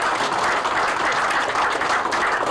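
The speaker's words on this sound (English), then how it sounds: "please give them a round of applause" A crowd claps and applauds steadily, dense continuous clapping filling the space at moderate volume.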